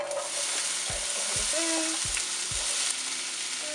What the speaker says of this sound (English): I'm just going to saute these for about 10 minutes until they soften up